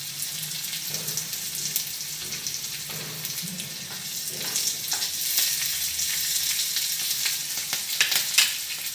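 Steady sizzling of spices and curry leaves frying in hot oil for a tempering, a bright crackling hiss that swells louder toward the end, with no voices.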